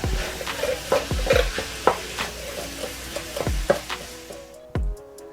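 Tomato paste is stirred in a pot for lasagna soup, with wet sizzling under repeated spoon scrapes and knocks against the pot, close and fairly loud, ending in a few clinks, no voices.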